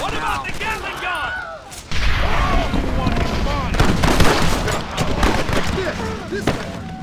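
Rapid, dense Gatling gun fire from Red Dead Redemption runs almost without pause for several seconds, loud and close under overlapping game voices and shouting.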